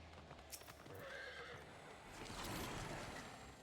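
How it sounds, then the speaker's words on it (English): A horse from the video game Final Fantasy XIV whinnies loudly with a high, quavering neigh, accompanied by light hoof clip-clops and soft game ambience, fairly quiet overall. "Ooh, that's a cool horse."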